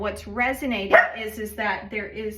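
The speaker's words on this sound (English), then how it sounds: "sorry about the dog." A dog barks indoors in short repeated yaps somewhere in the background, partly buried beneath someone talking steadily close to the microphone.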